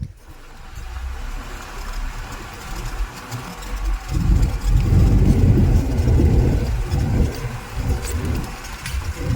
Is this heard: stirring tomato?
no